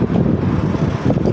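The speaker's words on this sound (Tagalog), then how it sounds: "It's a windy day." Strong wind on a windy day in Hong Kong buffets the microphone, producing a continuous loud roaring rumble without pauses.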